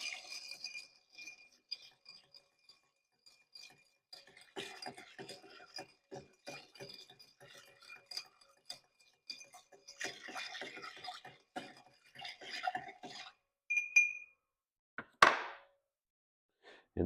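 Ice clinks and rattles against a glass as a cocktail is stirred, light scattered taps coming in uneven bursts close by, then a sharper clatter near the end, with no talk.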